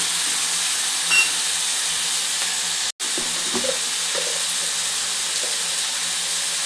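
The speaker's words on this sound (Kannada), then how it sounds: "ಟೊಮೊಟೊ ಈರುಳ್ಳಿ ಎಲ್ಲ ಚೆನ್ನಾಗಿ ಫ್ರೈ ಆಗೈತೆ" Chopped tomatoes and onions fry in a pan for chow chow bath, giving a steady soft sizzle and hiss with a brief stir, a sharp cut and light utensil taps, no talking.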